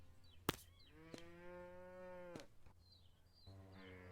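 A cow in a farm simulation video game gives two long, drawn-out moos, clear and close, after a sharp click and with a few soft chirps in between.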